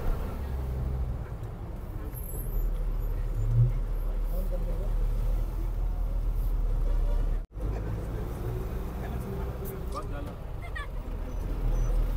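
Steady road traffic of pilgrims' vehicles on the mountain road from Kedarnath rumbles nearby, with engines idling and passing vehicles, a low continuous hum with a brief dropout midway.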